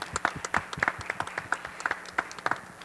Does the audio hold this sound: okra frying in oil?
no